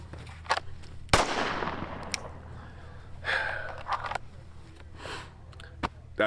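Sharp pistol shots cracking outdoors on a cold morning during a shooting drill, a couple of loud reports with decaying echoes and some quieter impacts spread over several seconds.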